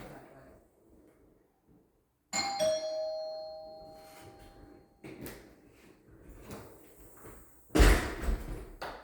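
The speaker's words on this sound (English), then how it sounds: "That's our doorbell." A house doorbell rings a clear chime that fades out slowly, followed by softer knocks and a sharp door-like thud in an otherwise quiet room.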